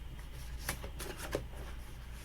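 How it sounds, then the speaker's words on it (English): Tarot cards being shuffled close to the microphone, soft papery riffles and flicks in a short quiet burst with a couple of sharper card snaps. "You're basically hearing me like not be able to shuffle."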